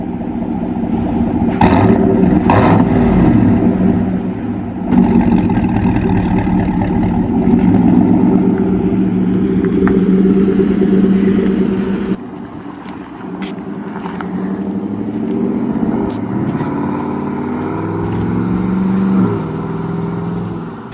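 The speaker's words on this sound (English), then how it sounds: "I want to hear like a drive-by" A car with a Corsa exhaust rumbles steadily at close range with a deep exhaust tone, revving and surging a few times as it pulls away, with no talking.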